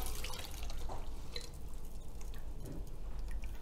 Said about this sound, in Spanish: Vamos a servir utilizando un colador oruga